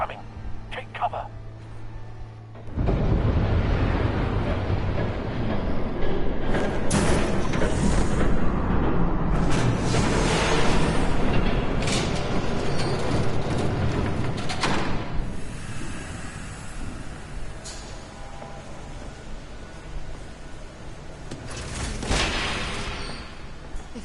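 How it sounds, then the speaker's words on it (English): A train rushes past in Batman: The Telltale Series, a loud, sustained rumbling roar with hissing and clattering that swells in suddenly and holds for about twenty seconds before easing, with voices speaking over it. "There's a train coming."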